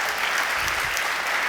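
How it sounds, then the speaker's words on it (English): Steady applause from a conference audience, a dense wash of clapping that holds evenly throughout, moderately loud and close, with no voices over it. "round of applause for Darren"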